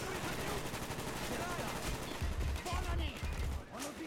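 Rapid automatic gunfire in the Call of Duty: Black Ops video game, loud and continuous bursts with booming low thuds near the end, while a player's voice talks over it.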